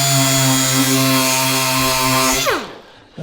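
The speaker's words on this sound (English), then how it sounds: "I'm going to sand the joints down so they're level." A power sander works over the joints of a wooden planter box with a steady, loud whining motor hum. It winds down and stops near the end.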